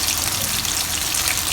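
Chicken pieces deep frying in hot oil: a steady, dense bubbling sizzle that fills the moment without a break and with no talk.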